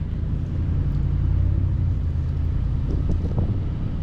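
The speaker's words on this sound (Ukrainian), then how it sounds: "у нас вітер сильний сьогодні" Strong wind buffets the microphone with a deep, steady rumble throughout, loud and unbroken, with no voices.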